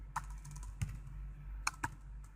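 A handful of computer keyboard keys clack while code is typed for an SQLite login and signup database, a few sharp, close, irregularly spaced taps over a low steady hum, with no talking.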